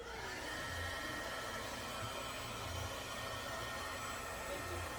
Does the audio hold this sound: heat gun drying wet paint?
yes